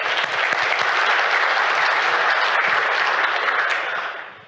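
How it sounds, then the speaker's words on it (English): Audience at a design and technology keynote event clapping for a speaker, a dense, loud, sustained round of applause that holds steady and then fades out near the end. "So let's give Brittany another round of applause."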